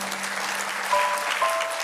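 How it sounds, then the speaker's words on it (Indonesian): Church congregation applauding during a sermon, a steady, dense patter of clapping from a hall full of people, moderately loud and sustained throughout with no voices over it. "Beri tepuk tangan kepada dia."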